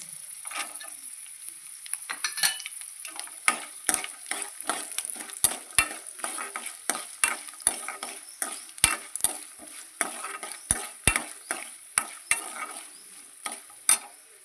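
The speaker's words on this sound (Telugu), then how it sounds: "ఇవి వేగినాయండి ఇప్పుడు జీడిపప్పు కూడా వేసుకున్నాము" Cashews and peanuts frying in oil in a pan for curry leaf rice, with steady crackling sizzle and repeated sharp stirring scrapes of a spoon against the pan, close and clear with no talking.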